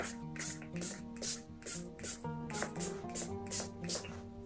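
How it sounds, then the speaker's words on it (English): Glow in the dark tie-dye spray hisses from a nozzle in about a dozen short, evenly spaced bursts, close and fairly quiet, over a faint background tone. "shake it up, and then just spray it"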